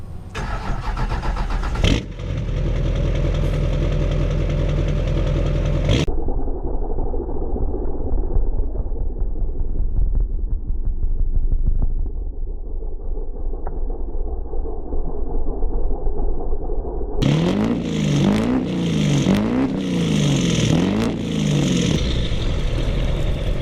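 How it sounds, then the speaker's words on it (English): A Duramax diesel pickup with a pumpkin jammed on its exhaust tip starts up, idles with a deep steady rumble for a long stretch, then revs hard in repeated surging bursts near the end, loud and close. "we don't just make WhistlinDiesel pumpkins and put them on our exhaust tip of our beautiful Duramax truck right here"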